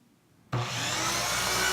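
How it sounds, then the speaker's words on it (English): A saw bites into wood for a small wooden candelabra, starting abruptly after a brief hush and then rasping steadily and close at full loudness. "Start by cutting your wood"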